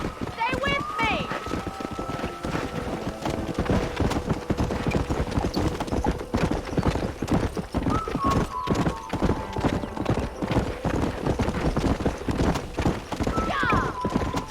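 Horse hooves galloping in a steady clip-clop rhythm in Red Dead Redemption, with occasional whinnies, constant and fairly loud, with voices calling out over the riding.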